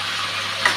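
A bay leaf fries in hot oil for a chicken curry, giving a short burst of steady, close sizzling hiss with a tiny click near the end.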